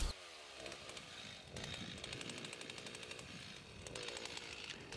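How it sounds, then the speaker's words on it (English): Chainsaw cutting frozen logs to length for bowl blanks, the engine revving and buzzing continuously at a moderate distance with rhythmic surges. "I'll get my chainsaw out and we'll cut up some wood."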